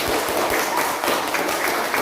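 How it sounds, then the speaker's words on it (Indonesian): Classroom applause for a student during a lesson, a dense continuous clatter of many hands clapping close by for about two seconds. "Ya, beri tepuk tangan untuk Azri."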